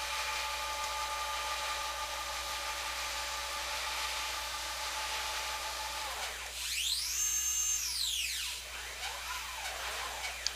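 A small CNC machine cuts along a traced line with a steady high whine and faint motor hum, and its pitch sweeps up and back down partway through.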